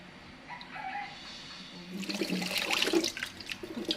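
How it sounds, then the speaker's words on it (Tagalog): Water is poured into uncooked rice in a pot before cooking, a splashing gush that starts halfway through and runs to the end, near and fairly loud. "Dadamihan ko ng tubig."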